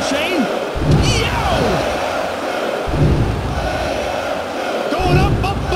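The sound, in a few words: crowd cheering in WWF Attitude PS1 wrestling video game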